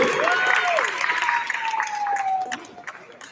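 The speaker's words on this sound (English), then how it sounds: "Give a big round of applause for Sunshine Tori." An audience applauds and cheers for a contestant at a community Shark Tank-style show, a short burst of clapping that fades out while a voice talks over it.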